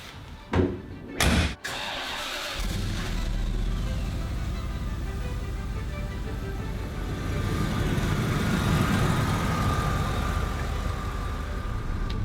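A 1992 Rolls-Royce Silver Spirit II is started: a couple of short clicks and thumps, then the engine fires and settles into a steady, fairly loud idle that runs on alone.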